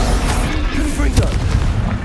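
A Confringo explosive spell blast in the Hogwarts Legacy video game, a loud, deep booming rumble with a sharp crack near the middle, heavy and close throughout.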